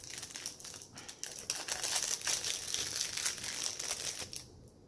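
A packaged raspberry-scented diamond painting wax container is being opened. Plastic packaging crinkles and crumples up close in quick irregular bursts, then drops off near the end.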